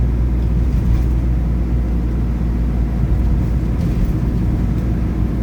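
A car drives over an uneven, stony road, producing a steady, loud low rumble of tyres and cabin noise that persists without a break.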